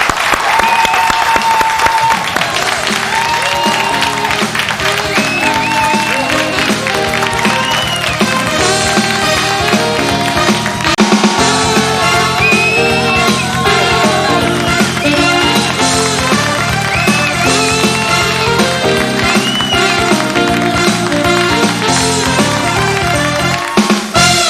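A TV game-show studio audience applauds and cheers loudly and continuously on the French-language TQS program, with upbeat music playing prominently over the clapping.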